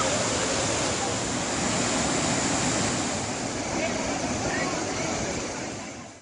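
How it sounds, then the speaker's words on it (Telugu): Rushing water from a rain-swollen stream overflowing into a waterfall near Nanajipur in Shamshabad, Rangareddy district, a loud, steady broadband roar that holds continuously throughout with no speech. "గత 3 రోజులుగా కురుస్తున్న భారీ వర్షాలకు రంగారెడ్డి జిల్లా శంషాబాద్ మండలంలోని ననాజీపూర్ వద్ద గల వాగు పొంగి పొర్లుతోంది."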